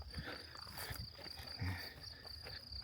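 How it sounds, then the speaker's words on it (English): Crickets chirping in a field beside pine forest and farmland at a rural property in central Portugal, a faint continuous high trill with soft scattered background noise and no talking. "you hear the crickets. This is the noise you get."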